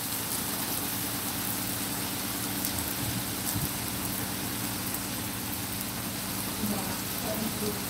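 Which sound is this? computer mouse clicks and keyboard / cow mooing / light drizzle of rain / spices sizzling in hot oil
light drizzle of rain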